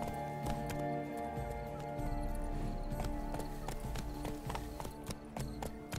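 A horse gallops in The Witcher 3 with rapid, rhythmic hoofbeats that stay steady and close, and a snorting neigh is mixed in throughout.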